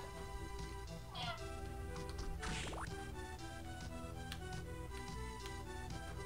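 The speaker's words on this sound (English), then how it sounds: "She's a cat." A cat meows twice, a short rising cry and then a longer one, in Castlevania: Aria of Sorrow, heard over steady looping game music.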